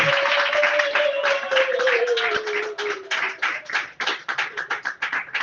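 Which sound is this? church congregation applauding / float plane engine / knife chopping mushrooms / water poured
church congregation applauding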